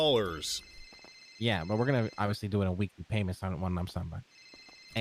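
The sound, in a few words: phone ringing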